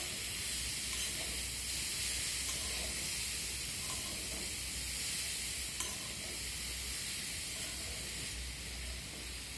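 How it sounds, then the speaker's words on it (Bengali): Grated raw papaya with potato and tomato is stirred in a hot pan, giving a steady, soft sizzle and hiss with faint scraping throughout. "এখন আমি দিয়ে দেবো গ্রেট করে রাখা পেঁপেটা দেওয়ার পর আবারও আমি সব কিছু ভালো করে নেড়ে চেড়ে নেব।"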